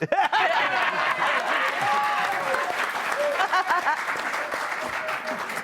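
A television studio audience claps steadily through several seconds, mixed with chuckles and scattered laughter, while voices talk over the applause.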